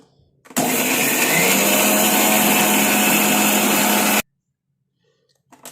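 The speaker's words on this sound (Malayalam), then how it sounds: "നല്ല പോലെ പേസ്റ്റായിട്ട് അരച്ചെടുക്കാം" An electric mixer grinder whirs loudly and steadily as it grinds natural hair dye ingredients into a paste, starting abruptly and running for several seconds before cutting off to silence.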